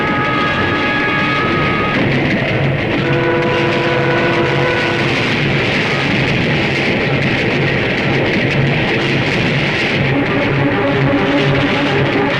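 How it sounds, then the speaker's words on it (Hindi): A train rushes past without stopping in a Hindi action movie: a loud, steady rumble with sustained tonal whines layered over it, running the whole time with no voices. "ये ट्रेन रुकी क्यों नहीं?"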